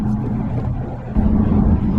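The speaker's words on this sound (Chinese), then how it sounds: "这个轮胎的声音和轮胎压过路面的声音超级大" A 2022 Audi Q3 40 TFSI quattro, a four-cylinder SUV, carries a loud, steady low rumble of tyre and road noise while driving, a continuous drone with no talking.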